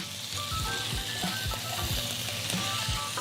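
Thick bacon sizzling and frying in a skillet for a country breakfast, a steady dense crackle with irregular pops and spatters, close and continuous with no talking.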